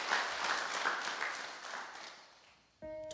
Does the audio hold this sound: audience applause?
yes